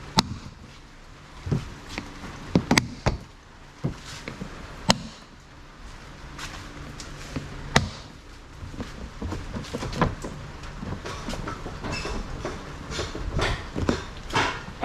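Latches on a Plano storage box mounted on a Can-Am X3 are worked by hand, producing scattered sharp plastic clicks and clunks, close by, over a quiet background and without voices.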